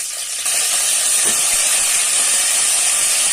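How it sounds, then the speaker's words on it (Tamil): Tomatoes and cumin sauté in oil in a hot pan, giving a loud, steady sizzling hiss that swells slightly at the start and then holds evenly, with no talking. "இப்போ நம்மளை தக்காளி நல்லா வதக்கிட்டோம்"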